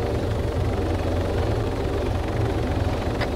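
Helicopter in the combat game ARMA 3, a steady, loud rotor and engine drone that fills the whole stretch without letup, with no talk over it.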